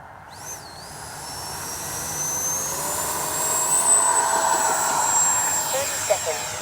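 A FreeWing F-22 Raptor 80mm electric ducted-fan RC jet spools up with a rising high-pitched whine that swells into a steady loud roar during an evening takeoff run, with voices faintly in the background.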